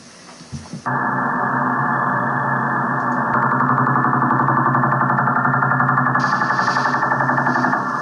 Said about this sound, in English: what you're hearing is the Russian woodpecker radar